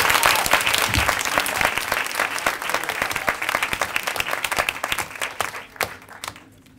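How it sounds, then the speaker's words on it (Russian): Lecture audience at the Kizzafro 2017 kizomba event breaks into sustained applause, a dense wash of clapping that thins into scattered sharper claps before fading out at the end. "аплодисменты"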